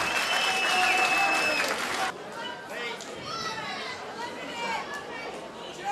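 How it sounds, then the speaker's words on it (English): Crowd at a fight night applauding the fighters, with loud clapping and chatter at first, then a quieter hall where crowd noise and scattered voices continue. "Give him a warm round of applause"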